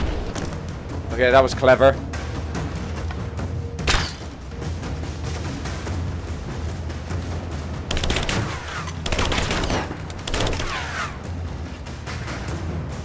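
Gunfire and explosions in the video game Rise of the Tomb Raider, with scattered shots, a sharp blast and bursts of fire amid background rumble, while someone talks over the action.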